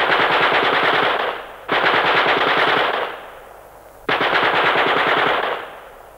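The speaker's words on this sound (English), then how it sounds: "Open fire with a Gatling gun!" A Gatling gun fires three long, loud bursts of rapid continuous shots, each rattling stream cut off abruptly and trailing into a short echoing decay, as a comedy sound effect.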